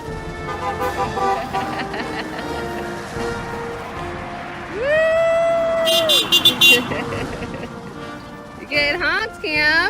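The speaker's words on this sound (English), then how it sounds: "You got honked at." Car horns honk from passing traffic at a roadside Fourth of July outing, a long sustained toot midway followed by a few shorter beeps near the end, heard over steady road noise and cheering voices.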